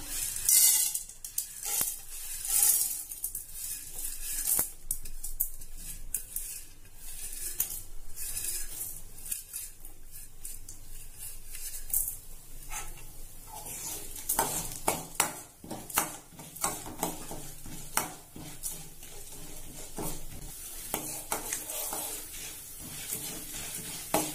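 Chana dal, toor dal and urad dal fry in sesame oil for vatha kulambu, a soft sizzle under frequent clinks and scrapes of a spoon stirring the pan, with no talking.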